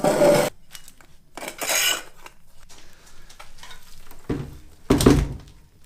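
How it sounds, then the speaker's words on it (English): Ash being scraped and collected from beneath a wood-burning sauna stove, giving clattering metallic thunks and scrapes in short bursts with quieter rustling between, close and fairly loud. "Gonna collect all the ash and throw them to the"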